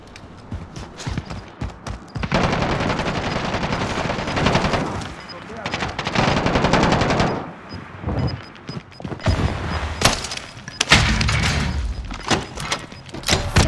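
Gunfire in a Call of Duty Warzone match: bursts of rapid automatic shots, loud and close, come in several long volleys with brief gaps, joined by scattered single cracks and mechanical clatter.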